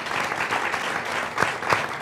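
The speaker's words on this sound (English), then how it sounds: "That deserves a round of applause." Town hall audience in Laredo, Texas breaks into sustained applause for Senator Ted Cruz, a steady wash of clapping from a crowd with a few louder bursts near the end.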